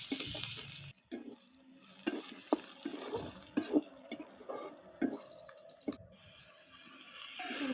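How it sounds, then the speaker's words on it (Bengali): Garlic, onion and green chili frying in oil in a wok, crackling sizzle punctuated by sharp scraping and clanking stirs of a spatula, close and uneven, with no talking. "প্রথমে রসুন, পেঁয়াজ, কাঁচামরিচ কড়াইয়ে ভালোভাবে ভেজে নিয়ে"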